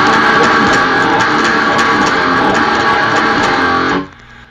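A heavy, distorted electric guitar riff in drop C tuning churns loudly and steadily with a low, thick tone, then cuts off abruptly near the end.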